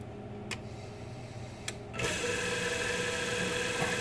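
A machine shop lathe, turning a new flywheel pattern for brass casting, starts up after two sharp ticks, then runs with a steady whirring, ticking mechanical drone up close.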